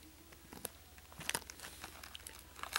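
A Yu-Gi-Oh card pack's foil wrapper crinkles and tears in short, irregular crackling bursts, close and fairly quiet, with no voices.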